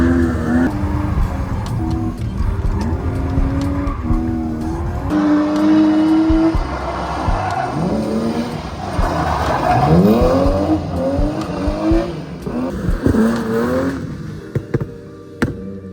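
A BMW E36 drift car squeals its tires while the engine revs and rises and falls in pitch, loud and close throughout with several long skids and throttle blips.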